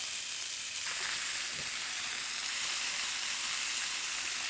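A pork chop fries in a pan over medium heat, giving a steady, close sizzle with a dense hiss that holds even throughout, with no voices.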